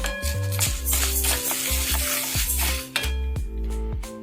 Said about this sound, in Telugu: ఇదిగోండి, మనకు వేగుతుంది కదా, పల్లీలు కూడా పేలుతుంది.